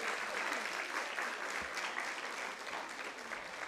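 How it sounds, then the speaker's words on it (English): Students and audience applaud both teams at a Nairobi regional high school debate knockout between Light Academy and Moi Girls, a steady, even clapping that holds throughout, heard somewhat distant with no speech. "Round of applause, please, for both teams."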